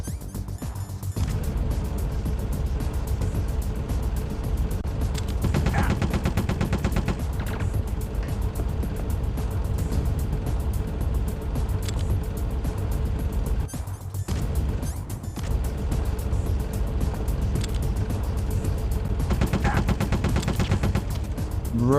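Gunfire in the video game Metal Gear Solid The Twin Snakes: a sustained loud barrage of rapid shots and bursts with brief lulls, dense and continuous throughout.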